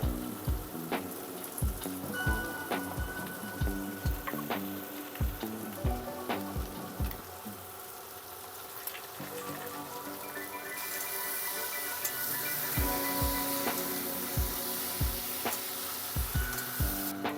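Tomato pieces sauté in a pan with ginger and garlic, giving a steady sizzle broken by rhythmic scraping and knocking strokes from the stirring spoon. Partway through, the frying turns to a brighter, louder hiss.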